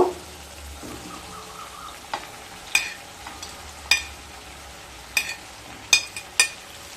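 Fried potatoes and drumsticks are stirred into cooked-down masala in a pan, sharp spatula scrapes and knocks landing irregularly over a quiet background sizzle, with no one talking.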